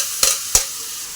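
Tempering (oggarane) of curry leaves and dried red chilies in a hot pan, sizzling throughout with two sharp bursts of crackle and spatter, loud and close, with no voices.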